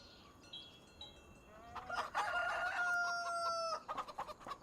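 Chickens in a coop in Farming Simulator 25 cluck and crow, with a rooster's call rising over steady fowl chatter that grows busier and louder midway before breaking into short clucks at the end.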